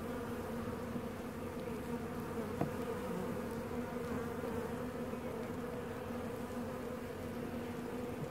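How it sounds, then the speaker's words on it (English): Honeybees buzzing over a hive frame on a warm day, a steady, dense drone of many insects at close range, fairly quiet and unbroken throughout, with no talking. "This one's got quite a few bees on it."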